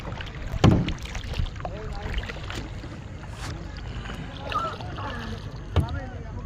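Oars paddle a small rowboat on open water, soft splashes and creaks coming in uneven strokes under steady wind noise, with a couple of sharper knocks.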